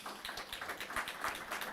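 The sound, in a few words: congregation applauding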